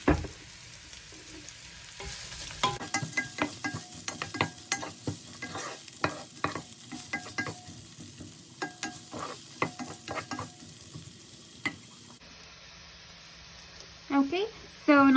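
Onions frying in warm oil for a vegan haleem, a soft sizzle broken by repeated scraping and stirring knocks of a utensil against the pan, with quieter gaps at the start and end.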